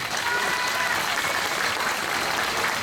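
A dense burst of audience applause at a summer evening event in Şile, Turkey, many hands clapping loudly and steadily throughout without pause.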